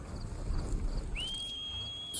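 A sustained two-note whistle sounds in Horizon Forbidden West to call the player's mount, a clear tone rising and holding steady over low game ambience.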